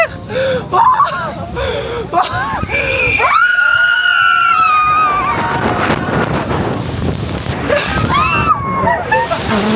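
Water park ride plunging into water on a holiday trip in the south of France or Spain, with people screaming and shouting over rushing splashes and wind buffeting the microphone, loud and close throughout.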